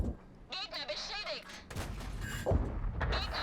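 Tank cannon fire in World of Tanks, a heavy shot ammo-racking an enemy tank, booming sharply amid game effects and a short burst of crackling, with a voice talking over parts of it.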